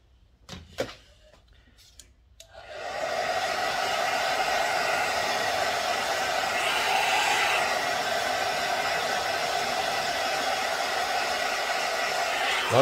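A hair dryer blowing warm air to dry hair starts after a couple of soft knocks and clicks, then runs as a loud, steady whooshing roar for the rest of the clip, with no voices.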